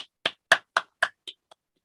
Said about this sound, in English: one more round of applause, I think, for Adja